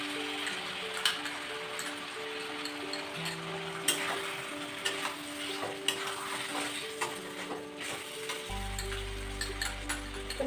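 Cashew and yogurt paste sizzles and fries with onions for mutton korma, a steady close crackle with occasional stirring scrapes and ticks and no talking.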